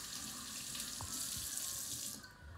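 Tap water runs steadily into a sink for washing, a continuous hissing splash that cuts off near the end.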